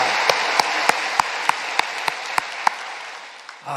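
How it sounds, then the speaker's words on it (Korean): A church congregation at an early morning worship service claps in unison, about ten evenly spaced sharp claps against a soft background. The clapping stops and a different sound briefly rises at the end. "좋으신 하나님께 박수로 영광 올려드립니다."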